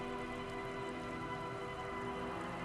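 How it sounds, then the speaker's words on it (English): Rain falls lazily on reeds beside an abandoned campsite in the game Disco Elysium, a steady, soft hiss with no pauses and a faint constant hum beneath it. "the reeds by the abandoned campsite hiss and shake in the lazily falling rain"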